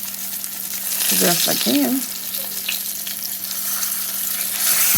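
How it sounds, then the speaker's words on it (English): A thick-cut pork chop fries in a pan with its ends turned to brown, a steady hiss and crackle of fat heard up close while someone speaks briefly over it. "since it's a thick cut pork chop, I gotta get the ends brown too"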